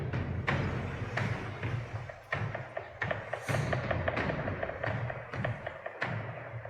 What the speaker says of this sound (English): Fire starboard cannons.